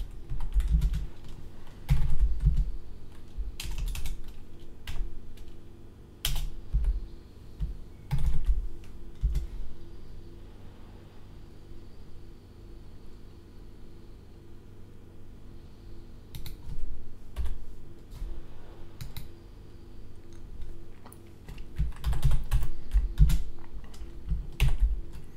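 Steady typing on a computer keyboard while entering code, with bursts of clicky keystrokes separated by short pauses, close and clear with no talking.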